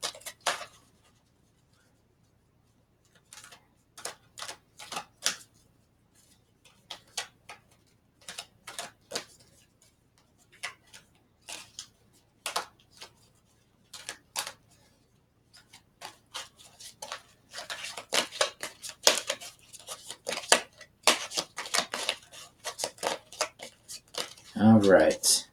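Halloween oracle cards being shuffled by hand, a stiff deck giving sharp flicking and tapping clicks in scattered bursts that grow denser and busier toward the end, close and fairly quiet.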